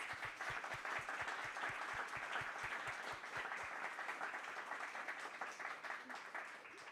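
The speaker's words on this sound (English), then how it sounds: "Please give a big round of applause to our keynote speakers." A conference audience applauds the keynote speakers at a technology-transfer symposium. Steady, fairly quiet clapping fills the room for about seven seconds, with a few heavier low thumps in the first four seconds.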